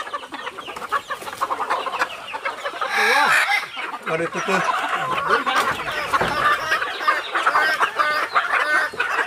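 Roosters and hens cluck and squawk steadily and close by, with occasional crowing, as poultry are counted in a Vietnamese forest setting, under continuous Vietnamese talk.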